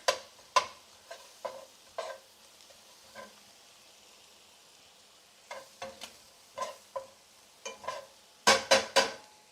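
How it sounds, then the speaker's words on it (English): Butter roux stirred in a pan, with repeated short scraping and sizzling bursts spaced irregularly and a louder cluster near the end, close and distinct, no talking. "Stir this around. Butter will burn very fast. We're making the roux here."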